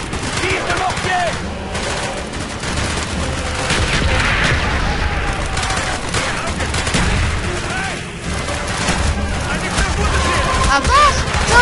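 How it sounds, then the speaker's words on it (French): Mortar fire and gunfire in the video game Call of Duty Black Ops make a dense, continuous barrage of blasts and shots at steady loudness, with a player speaking French over the combat. "Tire de mortier."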